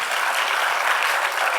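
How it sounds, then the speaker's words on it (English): Audience at an education conference talk breaks into brief, even applause, a thick continuous patter of many hands heard close and loud. "Round of applause for Swati."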